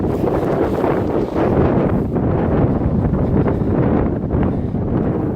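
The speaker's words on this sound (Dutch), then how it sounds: "Je voelt dat hier Zeeland is, de wind op zijn max." Strong, steady wind in Middelburg, Zeeland, buffeting the microphone, a loud continuous roar and rumble that persists through the whole clip.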